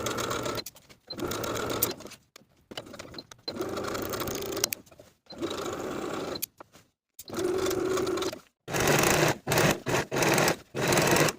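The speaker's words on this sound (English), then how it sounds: "Now I'm going to sew the cuffs to the bodice with a 3/8 inch seam allowance" A sewing machine stitches cuffs onto the bodice of a boxy top with a 3/8-inch seam allowance, running in repeated close bursts separated by brief pauses.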